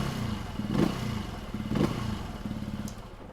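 A 2020 Benelli TNT135 motorcycle idles with its stock exhaust, a steady low chugging burble with two slight blips of revving and faint mechanical clatter, close by and with no voices.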